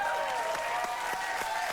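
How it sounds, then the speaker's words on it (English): A late-night talk show studio audience claps in sustained applause, a broad even patter with a faint tonal hum underneath and a few sharper claps standing out. "Let's just applaud our credits now"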